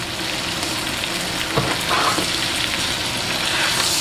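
Steak frying in a pan with fresh rosemary gives a loud, steady sizzle, broken by sharp crackling spits and a brief scrape or clatter partway through, with no talking.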